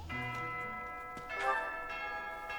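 A bell rings out in Fire Emblem: Three Houses, a sustained resonant metallic tone with a couple of soft repeated strikes over quiet game music, no voices.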